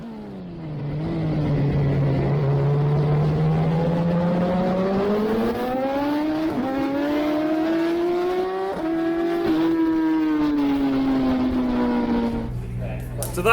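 An Aprilia RS660 motorcycle racing on track at Snetterton in a Supertwin race, its engine loud and close with rising and falling revs through gear changes, a voice talking over it.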